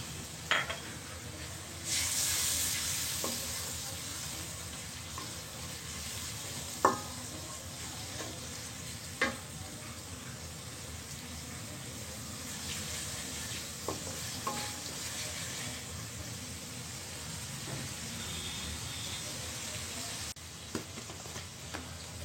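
Garlic, onion and ginger paste sizzles in a pan after a little water is added, with a steady frying hiss and occasional soft stirring scrapes and clinks.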